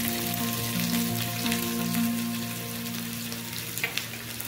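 Rajma masala gravy fries in oil in a pan, giving a steady close sizzle with a low hum underneath throughout, alone without talk.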